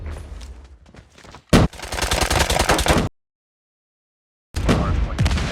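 KN-44 rifle fire with tracer rounds in Call of Duty: loud close bursts of rapid rhythmic shots, broken by a sudden drop to total silence before the firing resumes abruptly.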